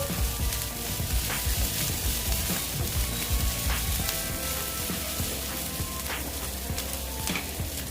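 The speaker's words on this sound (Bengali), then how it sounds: "ভেজে নিচ্ছি যতক্ষণ পর্যন্ত কাঁচা গন্ধটা না যায়" Spices and aromatics frying in a pan as the base for a boal fish curry give a steady, moderately loud sizzle with crackles and pops, without pause.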